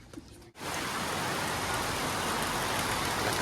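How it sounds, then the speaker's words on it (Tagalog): Heavy rain pours down in a dense, steady roar that starts abruptly after a brief quiet moment and continues loud and unbroken. "Lakas ng ulan mga boss."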